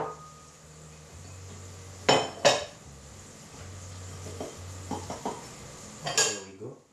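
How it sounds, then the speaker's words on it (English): A spoon clatters and clinks against a bowl while dry ingredients for a banana trifle cake are mixed, giving a few sharp metallic knocks and softer scraping taps over a low, quiet room hum. "You mix all the dry ingredients together except"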